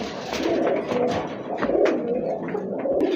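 A male red-coloured pigeon coos close by in continuous throaty, rolling phrases, loud and clear with faint clattering underneath.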